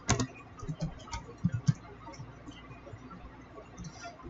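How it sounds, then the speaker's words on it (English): Keys on a computer keyboard typed in short irregular bursts of soft clicks, close and quiet, with a few louder taps near the start and pauses between. "Let's go ahead and type Snap Camera."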